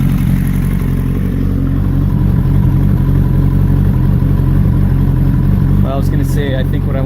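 A motorcycle engine idles with a steady low rumble, fitted with Factory Pro Long Boy extended fuel screws for idle mixture tuning, running continuously and close by while someone talks over it.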